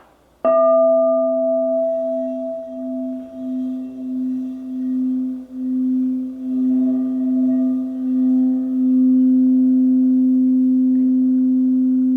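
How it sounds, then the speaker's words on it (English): A sound bowl is struck once, then a clear, steady tone rings on with a gentle pulsing wobble, sustaining for many seconds without talk. "try the sound bowls, see if they're continuous or if they fade out"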